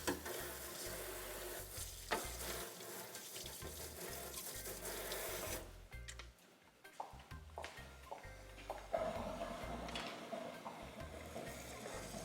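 Food being stirred in a pan while cooking with melon seed egusi, a wet sizzling and sloshing with scraping strokes, loud at first and then quieter.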